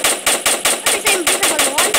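Rapid bursts of gunfire shoot at a shark in an SCP monster video game, about eight loud evenly spaced volleys over two seconds with no talking.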